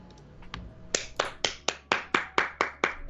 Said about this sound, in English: This is a sarcastic clap, okay?